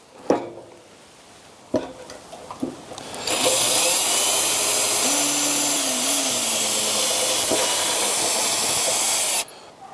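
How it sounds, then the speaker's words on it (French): A power drill whines steadily for about six seconds, boring into the pre-drilled support of a kit bioclimatic pergola frame. A few knocks and taps come before it. "c'est là que je vais moi faire un perçage pour visser sur le cadre"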